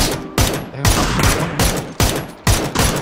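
Bursts of automatic gunfire from a PUBG match on PC, about six loud, sharp volleys in quick succession, each a rattling cluster of shots with brief gaps between.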